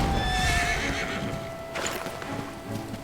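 In the video game Dragon Quest XI, a horse whinnies loudly at the start, then settles into a steady clip-clop of hooves over a constant background bed.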